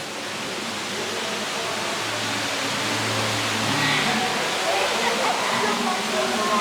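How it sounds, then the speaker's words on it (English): Steady rushing water flows and splashes continuously, a broad even wash of sound with a faint low hum underneath. "take the steps down through all of these little pretty water features."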